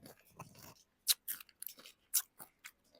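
Crunchy sour cream moringa chips are bitten and chewed up close, a series of sharp, dry crunches in an irregular rhythm, loud against quiet pauses with no talk.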